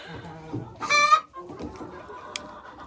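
Chickens in a farm coop cluck close by, with a short loud burst of squawking in the middle and softer scattered clucks and rustling around it.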